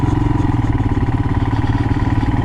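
Royal Enfield Himalayan single-cylinder motorcycle thumps along in second gear over rough ground, a steady, close, pulsing exhaust beat with a slight rise as it pulls.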